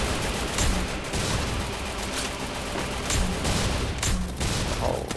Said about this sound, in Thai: ถือว่าระเบิดเราจะมีการโจมตีที่กว้างมากครับตอนนี้